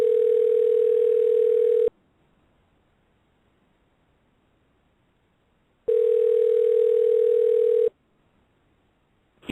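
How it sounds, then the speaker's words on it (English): A telephone line gives a steady dial tone in two separate stretches of about two seconds each, separated by silence, loud and close as if played over a radio show's phone connection. "We just tried to dial random numbers."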